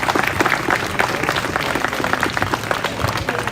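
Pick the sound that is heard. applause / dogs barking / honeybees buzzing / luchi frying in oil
applause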